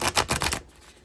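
Tarot cards being shuffled by hand, a quick burst of rapid riffling flutters lasting about half a second, close and fairly loud, then quiet.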